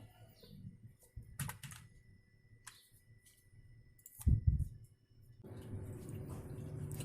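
Java code typed on a computer keyboard, with scattered quiet key clicks in short bursts, a louder thump partway through and a steady background hum toward the end.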